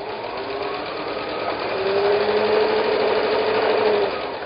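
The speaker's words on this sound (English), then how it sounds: "I sew as far as I can, leave my needle in the down position so that nothing will shift" Sewing machine running steadily as it stitches quilt strips with a scant quarter-inch seam, a continuous close mechanical whir that swells slightly louder midway and eases off near the end, with no talking.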